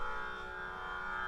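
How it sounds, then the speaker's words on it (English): A tanpura drone plays faintly from a cell phone speaker, a steady sustained shimmering tone with no breaks over a brief stretch, thin and quiet. "This is the sound of a tanpura."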